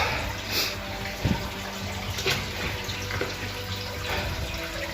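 Water trickles and splashes steadily inside a stone cave, a continuous close wash with small bursts of dripping.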